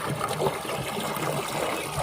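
Water runs steadily into a cattle trough on a farm with Kankrej cows, a continuous close splashing trickle with no voices.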